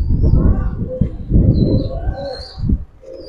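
Giribaz silver pigeons cooing up close in low, throbbing rolls that repeat with short pauses, accompanied by faint higher chirps from other birds.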